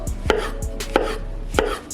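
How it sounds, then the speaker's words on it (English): Knife slicing baby bella mushrooms on a cutting board, three crisp cuts spaced roughly a second apart, close and clear with no talking. "the last thing we're gonna chop for now is these baby bella mushrooms, and for these, just gonna do a real simple slice"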